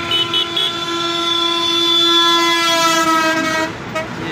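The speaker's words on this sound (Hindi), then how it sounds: "बस आ रही है और इसी बस पर बैठेंगे" A city bus pulls up to a stop in Lucknow, its horn blaring in one long, loud, steady musical tone for about four seconds before cutting off, with no talk over it.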